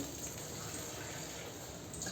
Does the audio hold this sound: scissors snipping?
no